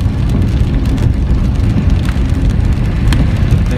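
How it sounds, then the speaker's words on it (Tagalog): Heavy rain drums steadily on a moving vehicle during a trip in stormy typhoon weather, a dense continuous wash of close patter over a low road rumble with no voices. "kahit maulan."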